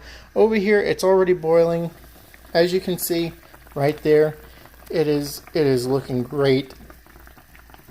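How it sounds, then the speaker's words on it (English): A pot of chicken boils on a stovetop over medium-high heat, its soft bubbling running low beneath steady close-up talk. "So over here, it's already boiling."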